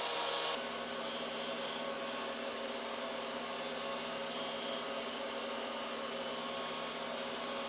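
Old rack-mount cloud server booting from USB, giving a loud, steady whir of cooling fans with a constant tonal hum that continues unchanged throughout, close by.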